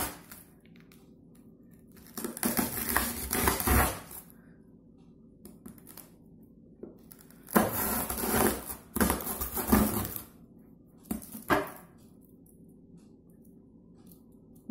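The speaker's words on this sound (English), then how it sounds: "Use a knife or a rolling pin to bash it up or a knife to cut it" Brittle homemade honeycomb candy made with honey is bashed with a knife or rolling pin, giving several bursts of sharp cracking and crunching, a long one early on, then two more clustered later with a brief snap after them.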